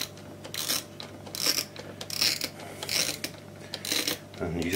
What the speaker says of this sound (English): You can ratchet the advance on these, so you can keep it nice and tight until the arrow lines up with the red.